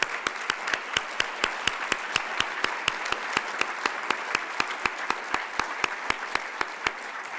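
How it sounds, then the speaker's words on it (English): Lecture audience applauding, a steady crowd of hands clapping evenly for several seconds at moderate distance, with no talking over it. "And can we give them some applause?"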